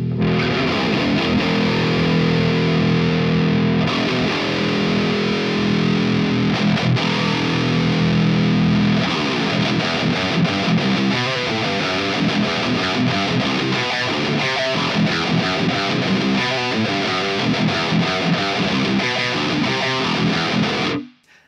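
Heavy distorted electric guitar in drop E through a blend of ML Sound Lab Amped Icon amp models, Blackback for thick lower mids and Mofo for aggressive highs, playing dense sustained chords then chugging palm-muted riffs, loud and continuous throughout.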